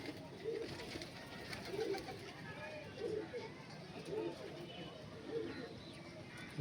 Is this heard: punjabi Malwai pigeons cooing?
yes